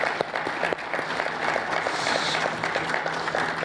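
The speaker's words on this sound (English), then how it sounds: "Let me suggest we give them a round of applause." An audience applauds panelists at a capacity development event, a steady, dense patter of many hands heard at moderate distance, with no talking.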